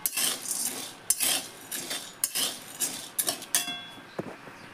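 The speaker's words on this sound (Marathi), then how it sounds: "डाळ पण लालसर होईपर्यंत भाजायची व्यवस्थित. असं लगातार फिरवत राहायचं." A spoon scrapes and clinks against a pan as dal is stirred continuously while it roasts to a reddish colour for sattu flour, in irregular close, fairly loud strokes with short pauses.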